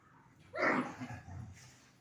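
Puppies playing and tussling, one loud close bark or yelp followed by softer whimpering yips, brief and alone.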